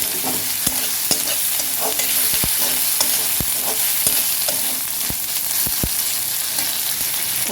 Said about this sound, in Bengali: রসুনের পেস্ট দিলাম, দিয়ে একটু ভাজা করব।